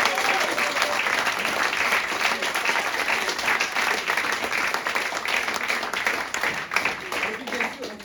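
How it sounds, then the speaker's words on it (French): A theatre audience gives a long, dense round of applause for the sound-desk operator at the end of a show, many hands clapping steadily throughout. "on va faire un tonnerre d'applaudissements à Malou qui était à la régie"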